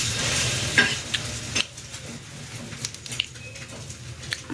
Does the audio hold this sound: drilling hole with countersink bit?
no